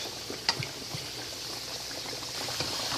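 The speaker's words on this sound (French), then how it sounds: "On va baisser le feu, puis on va laisser mijoter, cuire tout doucement avant de faire frire." Turkey simmering gently in its own juices in a pot on low heat, a soft steady bubbling with a few small pops and sizzles, close and alone.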